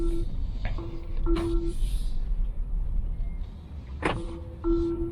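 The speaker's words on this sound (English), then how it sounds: "The electronic parking brake will be automatically released." Electronic parking brake releasing in a BYD Tang DM-i SUV, heard as short, whirring electric motor tones and faint clicks inside the cabin, with a voice speaking partly over them.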